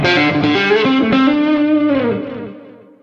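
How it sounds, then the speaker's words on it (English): An electric guitar with single-coil pickups and a bass boost switched on rings out a sustained, distorted chord with a thick low end, slowly fading away over a few seconds. "Here we have a bass boost switch for getting more meat out of your single coils."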